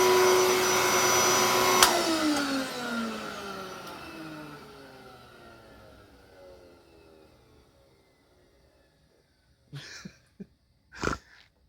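A Bissell PowerForce PowerBrush upright vacuum cleaner runs loudly, is switched off and whines down over several seconds to near silence, followed by a few faint knocks.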